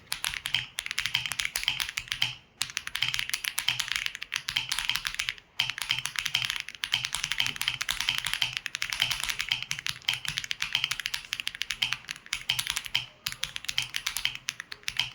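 Someone types steadily on an Aula F99 mechanical keyboard, a close, dense stream of clacky keystrokes with a few short pauses, heard on its own without talk.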